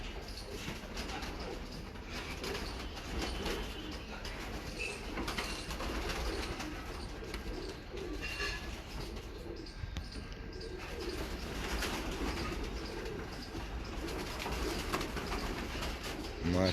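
Royal Teddy pigeons cooing steadily close by, soft repeated coos layered over a constant low background hum with occasional faint chirps throughout.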